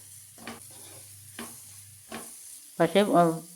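Ground masala of chili and coriander sautéed in a pan for beef perattu curry, heard as a few short scraping stirs followed by a brief louder burst of sizzling near the end, close and moderately quiet.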